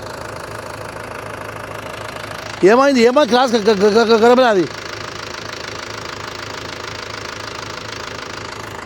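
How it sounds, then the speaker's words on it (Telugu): A tractor engine runs steadily the whole time, a continuous mid-range rumble that a loud shouting voice briefly rises over near the middle. "ట్రాక్టర్ వేసేస్తున్నాను."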